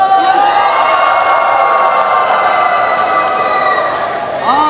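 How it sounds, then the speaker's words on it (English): Audience at WoW Plaza Lalaport shopping mall cheering and applauding to welcome Sayaka Yamamoto and QUADLIPS for a Bon Odori dance, a sustained wash of claps and shrill voices that tapers slightly at the end. "So let's give them the loudest noise, loudest applause that you can."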